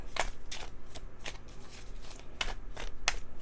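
Oracle cards being shuffled by hand during a tarot reading, heard as a run of crisp, riffling bursts at an uneven rhythm, close and moderately quiet, with no one speaking.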